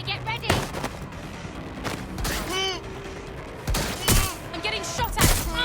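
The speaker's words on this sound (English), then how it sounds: "I'm getting shot at." Gunfire in the video game Watch Dogs Legion: several loud bursts of shots and impacts scattered through the clip, interleaved with game sound effects and a voice talking between them.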